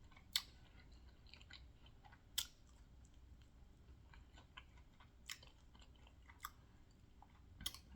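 Close, wet chewing of chicken wings coated in mayo sauce, with soft mouth smacks and a few sharper crunchy bites scattered across the stretch, no talking.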